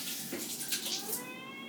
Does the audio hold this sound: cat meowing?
yes